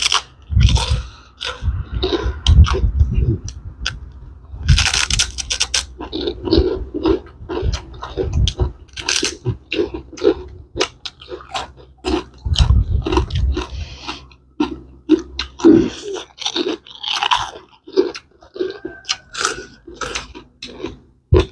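Loud, close crunching and chewing of crispy crab eaten with Thai papaya salad, repeated irregular bites over about twenty seconds, wet and crackly, with no talking.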